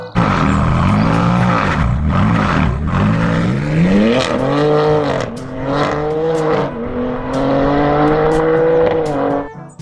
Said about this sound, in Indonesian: Di sini ada mobil balap